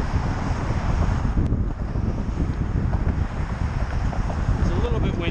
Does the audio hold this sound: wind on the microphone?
yes